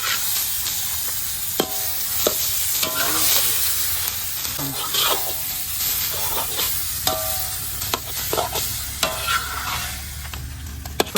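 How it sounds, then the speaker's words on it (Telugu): Cooked Maggi noodles tossed and stirred in a hot pan with egg masala, giving a continuous sizzle broken by repeated scraping and clanking of the spatula against the pan, close and busy throughout. "ఇప్పుడైతే మనం ఇందాక చేసుకున్న మ్యాగీని ఇందులో వేసుకుందాం."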